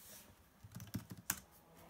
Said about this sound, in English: So I will just go in the terminal here and type eject.